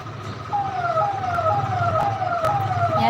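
A wailing emergency siren, an ambulance passing on an Indian road, rises and falls in repeated sweeping cycles, loud and fairly close over a low hum of road traffic.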